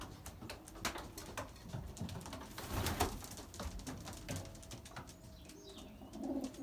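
Belgian racing pigeons in a loft, with soft cooing and fluttering amid scattered taps and rustles, fairly close and steady throughout.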